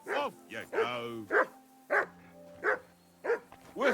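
Several close, insistent barks from a dog in Kingdom Come: Deliverance 2, the first few bunched together and the rest spaced about half a second apart, clear over a faint low drone.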